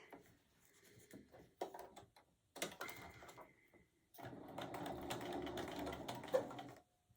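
A sewing machine stitches a fabric mug rug, starting with short faint bursts and handling noises, then settling into a sustained, quiet mechanical run of stitching.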